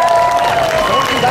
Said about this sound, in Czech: Zatleskejte mu